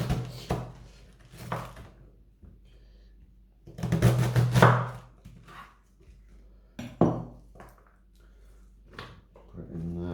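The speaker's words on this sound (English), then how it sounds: "I'm going to chop these cabbage up into as thin pieces as possible with this blunt," Cabbage being chopped with a very blunt knife, a few heavy irregular thuds against a board, close by, separated by pauses and mixed with a person talking.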